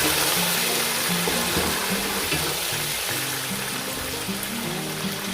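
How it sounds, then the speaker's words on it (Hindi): Water is added to a pan of golden fried onions, giving a loud, steady sizzle and bubbling hiss that carries on throughout without any talk. "अब इसमें मैं थोड़ा सा पानी ऐड करूँगी ताकि मज़ीद प्याज जो है वो गोल्डन ना हो।"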